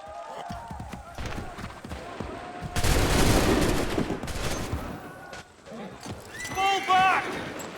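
Musket volley fire in the colonial-era battle of Assassin's Creed III, a dense crackling burst of gunshots mixed with horses' hooves and a whinny, with shouted voices around it.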